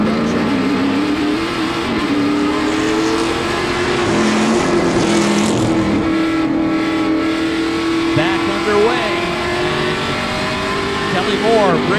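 Pro Stock race cars roar around the oval at Wiscasset Speedway, engines droning and shifting pitch as they pass near, with an announcer calling the race over the engine noise.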